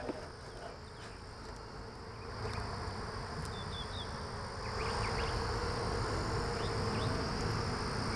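Honeybees buzz steadily in an open hive during a two-week brood checkup, a dense continuous hum close by that grows slightly louder partway through, with no talking.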